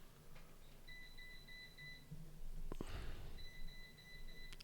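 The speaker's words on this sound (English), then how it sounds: "My Roomba got stuck on something." A stuck Roomba robot vacuum repeats a thin two-tone electronic beep in steady bursts, somewhat distant, with a brief clatter and rumble in the middle of the room noise.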